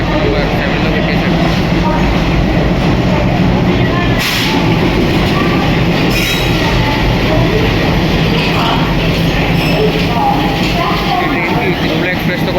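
A train pulls into platform 7 at a busy Visakhapatnam railway station with a loud, steady rolling rumble that continues throughout. Brief higher bursts rise above the noise, and voices stay faint in the background.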